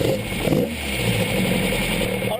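A car engine fitted with twin Weber DCOE carburetors idles steadily during a carburetor balancing and mixture tune, a continuous low rumble with a slight rise in revs partway through.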